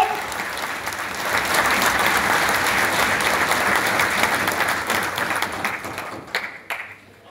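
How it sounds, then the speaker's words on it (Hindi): A crowd at a BJP Delhi Yuva Morcha rally claps loudly to welcome the Delhi state party president, a dense, even roar of hands that holds for several seconds and then thins out near the end. "जोरदार तालियों से स्वागत करो"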